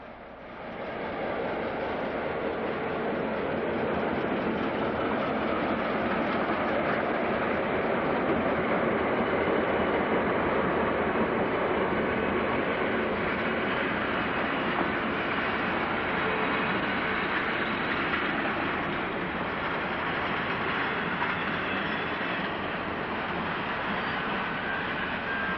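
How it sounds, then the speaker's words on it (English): Rio Grande Prospector diesel passenger train passing near Provo, Utah, by a Union Pacific crossing, a loud continuous broadband roar of engines and rolling wheels that swells and holds steady, with no talk. "The Prospector, the Rio Grande's other through train, leaves Provo, Utah,"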